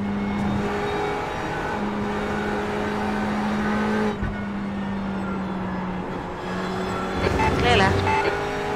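A Ferrari 488 GTE race car's engine drones steadily at high revs on the Le Mans circuit in a racing game, holding a sustained tone that dips briefly and swells again while someone talks over it.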